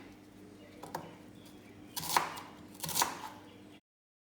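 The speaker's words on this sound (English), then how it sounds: "I'm going to be cutting up my onion." A knife cuts through an onion on a board, giving a few separate chopping strokes: one light cut, then two firmer ones about a second apart, against a quiet kitchen background.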